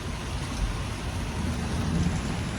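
Heavy rain roars steadily and densely, a continuous loud wash with deep rumbling underneath and no voices.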